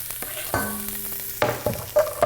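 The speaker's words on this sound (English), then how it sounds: "So let's get the onion into the hot oil here. And the porcini." Chopped onion and porcini hit hot oil in a pan, with a few clanks and scrapes of a utensil over a sizzling hiss that rises as they go in.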